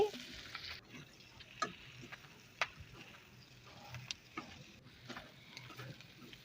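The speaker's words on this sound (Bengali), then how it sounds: "এখন আমি নেড়ে চেড়ে দিচ্ছি" Bitter gourd pieces are stirred among frying shrimp in a pan, giving a soft steady sizzle with scattered spatula scrapes and taps, fairly quiet and close, with no talking.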